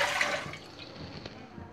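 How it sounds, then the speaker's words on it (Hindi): Water is poured into a cooking pot on a gas stove while making rice: a brief splashing pour up front, then a quieter trickle and faint kitchen noise. "हम गैस जलाएंगे पहले, हम फिर हम इसके अंदर पानी डाल देंगे।"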